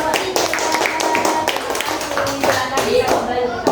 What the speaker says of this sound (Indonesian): Tepuk tangan yang meriah untuk kelompok 3.